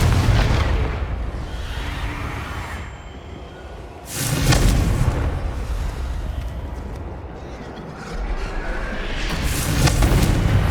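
Confringo spell explosions in a Harry Potter-style PS5 game: a rumbling, blast-filled battle din with two distinct booming bursts that swell and then decay into a steady roar.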